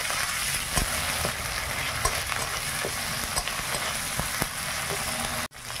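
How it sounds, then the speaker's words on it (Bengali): Ginger and cumin paste sizzles steadily in hot oil in a home kitchen, with a loud, continuous hiss broken by occasional sharp crackles and stirring scrapes, then a brief cut near the end. "আদা জিরাটা ভাজা হয়ে গেছে"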